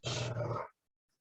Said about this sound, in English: I have 2 pit bulls, 1 puppy and an adult behind me, behind these palm trees